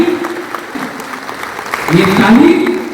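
A crowd at a Tiprasa political rally claps and cheers, the applause swelling louder toward the end beneath a voice speaking over it.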